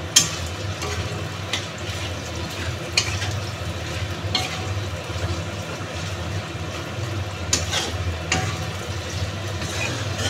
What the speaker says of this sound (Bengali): এবার ভালোভাবে এটাকে নেড়ে চেড়ে নিয়ে ভাজা ভাজা করে নেব।